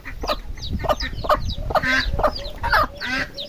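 A mother hen with her chicks on a farm, a run of close, loud clucks in short bursts with higher chick peeps between them and no talk.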